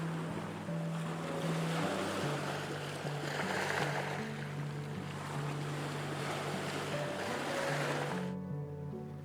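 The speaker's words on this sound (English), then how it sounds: "Strong waves crash against the shore" Strong ocean waves roll and crash onto a volcanic black sand beach in a continuous, loud wash of surf, with wind buffeting the microphone and a faint tonal background underneath.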